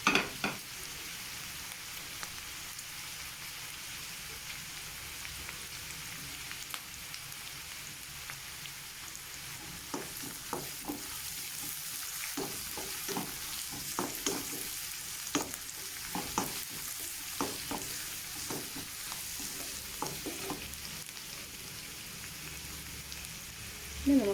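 Chopped spring onion whites frying in a pan for mixed chicken fried rice, a soft, rain-like hiss that runs throughout, with a quick series of stirring clicks and scrapes through the middle stretch.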